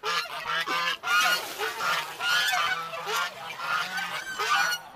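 Several geese honk loudly and repeatedly nearby in a frozen, bumpy farmyard, their calls overlapping in a continuous noisy chorus.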